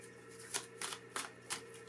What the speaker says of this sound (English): I'm gonna pull another card